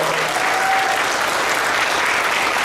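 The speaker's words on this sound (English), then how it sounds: "we've been able to give a loud round of applause to" Sustained audience applause fills a convention panel room at a pony fan cider festival, a dense, steady wash of clapping from a large crowd with no break.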